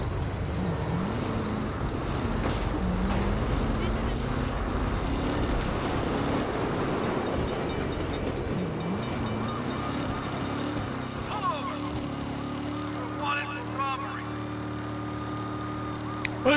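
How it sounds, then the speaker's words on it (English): A heavy train rumbles past at length in the video game Saints Row, loud and continuous, with a sustained horn-like tone sounding toward the end. "Bad time for a train."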